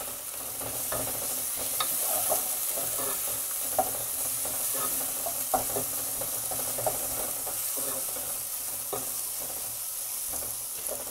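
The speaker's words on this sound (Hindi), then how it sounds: "लहसुन अदरक के पेस्ट को थोड़ा भून लेंगे" Garlic ginger paste fries with light-brown onions in a pan, giving a steady close sizzle with occasional soft scrapes and clinks of stirring throughout.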